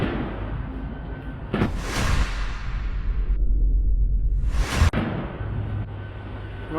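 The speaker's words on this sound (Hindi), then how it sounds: "जंगले के पास जाकर सामने से आ रहे आईडीएफ के एक टैंक पर यह गोला दाग देता है, जिसके बाद जोरदार धमाका होता है" A rocket launcher is fired at an IDF Merkava tank in Gaza, giving two loud, sharp blasts about three seconds apart, each with a roaring rumble between and after, over steady background noise.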